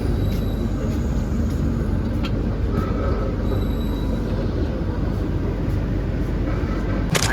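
A train runs at a railway station platform, a loud steady low rumble of rolling wagons with faint wheel squeals and a sharp clank near the end.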